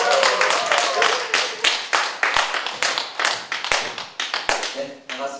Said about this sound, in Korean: 제가 앞으로 오실 때 정말 우렁찬 박수로 환영 부탁드리겠습니다.